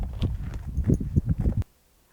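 A horse with a known front-leg orthopaedic condition walks during a winter health examination, its hooves clip-clopping in a quick series of close, firm thuds for about a second and a half before stopping.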